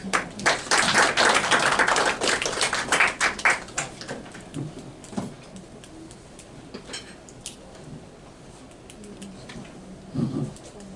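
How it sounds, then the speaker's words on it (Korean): An audience at a seminar on district energy and AI claps as a company executive comes up to present, loud and dense at first, then thinning to scattered claps and light taps. "윤창열 상무님 나오실 때 큰 박수 맞아주시기 바랍니다"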